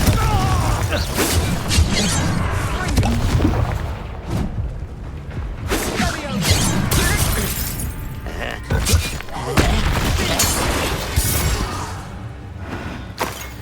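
Confringo blasting spells in a Harry Potter video game, with repeated thumping explosions, crashes and shattering impacts over a busy battle soundscape, while voices speak and shout spell names now and then.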